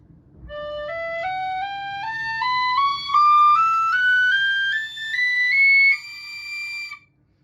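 A nickel Fadog Pro D tin whistle plays a rising scale from low D to double high D, clear pure notes stepping up one after another, each held briefly, solo and close.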